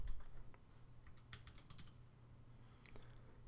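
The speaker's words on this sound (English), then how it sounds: "I'll start by typing the first part of the address that I'm looking for." Typing on a computer keyboard while entering a street address into a county GIS search tool, with several quick bursts of close key clicks over a low steady hum.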